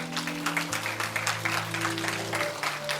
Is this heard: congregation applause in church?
yes